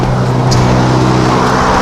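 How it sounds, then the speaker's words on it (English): Steady road traffic passes nearby, a loud continuous rumble of cars with a low engine drone and no talking. "sorry about the traffic"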